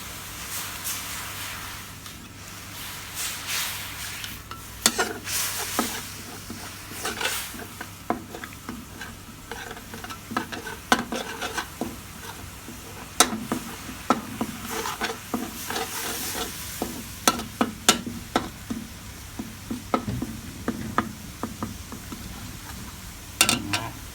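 Red curry paste stir-fried in a pan for Thai jungle curry with pork belly; a continuous sizzle runs under frequent spatula scrapes and clacks, busy and close throughout, with no talking.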